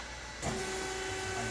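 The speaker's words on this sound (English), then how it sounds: "It's just the Spindle running." A Kent KGS-1020 10 x 20 inch auto hydraulic surface grinder with only its spindle running gives a close, steady machine hum with a thin sustained tone. It swells in suddenly a short way in and then holds level.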